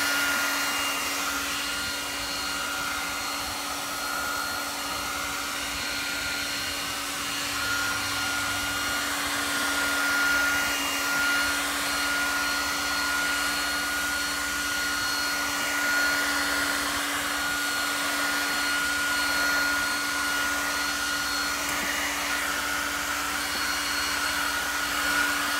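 A hair dryer drying a decoupage coat on a book, blowing as a loud, steady whooshing whine with a constant motor hum that runs unbroken and close throughout, with no talking.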